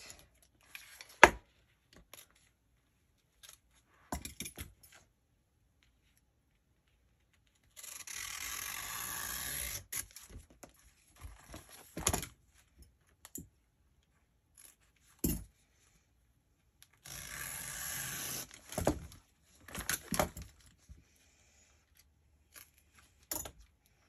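Fabric being cut with scissors, two longer stretches of steady snipping and rasping blade strokes amid scattered clicks and handling noises, close and fairly quiet with no speech.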